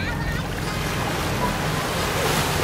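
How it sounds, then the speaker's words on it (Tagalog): Ocean waves at sunrise wash continuously in broadband surf noise with wind, fairly loud and close, the rush swelling slightly toward the end, with no clear voices. "Ayan ay alon, Reyna."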